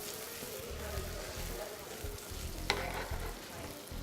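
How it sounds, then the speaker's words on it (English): Butter sizzles in a hot pan with calamari, a steady crackling fry with occasional stirring knocks and one sharp click near the end, close and moderately loud. "Now I'm going to add a little bit of butter."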